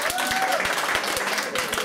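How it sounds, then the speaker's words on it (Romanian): Audience applause for a young woman volunteer at a comedy magic show, a steady wash of clapping throughout with a few sharper individual claps standing out near the front. "Aplauze pentru domnișoara"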